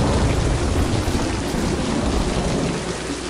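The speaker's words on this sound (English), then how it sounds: "And you know what I did not do is reactivate the rain." Steady, dense rain from the video game Infernium pours without a break, a loud even wash of rain with a faint rumble of thunder underneath and no voices.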